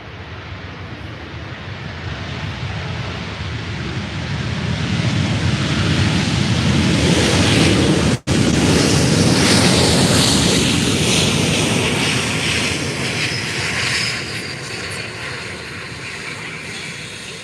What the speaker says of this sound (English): Here comes another Jet2.